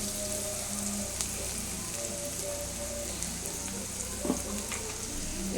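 An egg dish frying golden brown in a pan, giving a continuous, dense sizzle with occasional pops and a faint clink near the end, nearby and with no talking.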